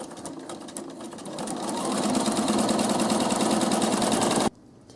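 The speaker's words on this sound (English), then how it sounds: "So I'm just going to sew a 1/4 inch seam the entire length of my binding strip" A sewing machine sews a 1/4 inch seam along a fabric binding strip, its motor and needle clatter speeding up into a steady close whir before cutting off abruptly near the end, with no voices.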